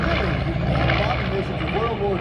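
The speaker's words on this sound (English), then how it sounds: "The aircraft comes down over its target." A World War II warbird thunders overhead in a bombing-run dive, a dense, loud propeller-engine roar that stays steady through the brief moment.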